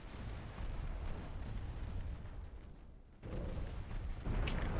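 Naval warship combat in the strategy game UA:D as a torpedo salvo goes out, heavy booming rumbles and distant gunfire-like thuds rolling on continuously, with a sharper burst near the end.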